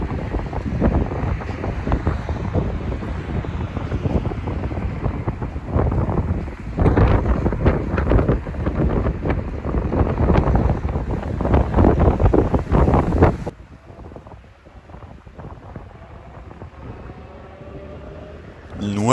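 Strong wind buffets the microphone beside a railway line in Zamora province, Spain, a loud roaring rush for most of the stretch before dropping abruptly to a quieter, calmer hiss.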